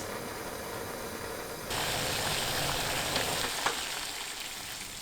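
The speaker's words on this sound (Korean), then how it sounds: "센 불로 뚜껑 닫아서 끓입니다." Pickle brine of vinegar, water and salt heating over high flame in a lidded pot, a steady broadband hiss and bubbling that swells louder partway through and holds evenly, with no voices.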